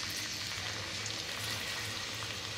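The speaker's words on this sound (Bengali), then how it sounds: "এখানে পেঁয়াজটাকে হালকা করে ভেজে নিচ্ছি" Chopped medium onions frying lightly in white oil for a chicken gravy, a steady close sizzle with soft crackling that holds even throughout, no voices.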